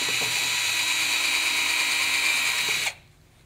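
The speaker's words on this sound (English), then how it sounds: "They drill through the far cortex." A power drill whines steadily at high speed while drilling through far bone cortex, loud and close, then stops abruptly near the end.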